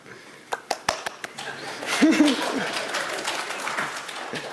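A handful of separate, sharp claps from a few audience members in a lecture room, spaced out at first, then merging into scattered clapping with cheering and laughter underneath.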